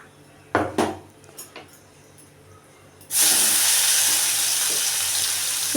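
Onion, tomato and garlic paste drops into a hot pan and starts frying with a loud, steady sizzle after a few clinks of utensils, the hiss continuing close up with no talk.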